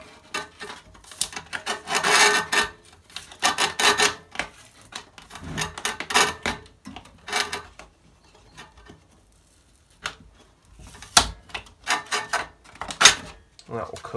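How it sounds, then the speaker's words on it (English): An old drive disc is peeled off a BDS150 belt and disc sander, giving intermittent tearing and rubbing scrapes in short bursts, with quiet gaps between pulls. "it's just a case of peeling the old disc off."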